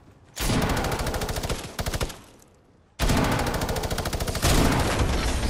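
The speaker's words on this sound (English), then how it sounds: "I just mini-gunned him." Minigun fire in a video game: loud, rapid, sustained bursts, first one long burst, then a short stutter, then another long continuous stream after a brief pause, with no voices over it.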